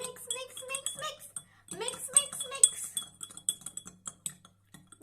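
A spoon clinks and scrapes against a dish while mixing sugar, quick irregular metallic taps and rattles, close and fairly quiet with short pauses.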